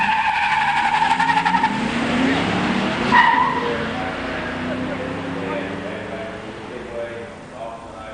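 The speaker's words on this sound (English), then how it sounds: "In the near lane, Ken Woodard's 87 Regal Automatic. In the far lane, Tom Bohannon's 87 Mustang LX 302 5-speed." A 1987 Buick Regal automatic and a 1987 Mustang LX 302 five-speed drag race at a strip, engines roaring and tires squealing at mid-distance while an announcer talks over the noise.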